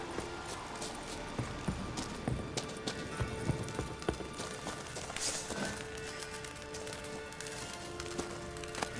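Horse hooves clopping steadily in the video game Witcher 3, a fairly close run of regular clip-clop beats over ambient game sound with no one talking.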